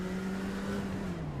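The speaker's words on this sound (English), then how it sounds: "He's actually clutching right now in that car." A race car in a racing video game at Spa-Francorchamps, its engine humming faintly while the driver works the clutch, and the pitch sags gradually downward with no talk over it.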